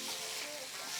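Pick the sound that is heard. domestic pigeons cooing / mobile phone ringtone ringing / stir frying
stir frying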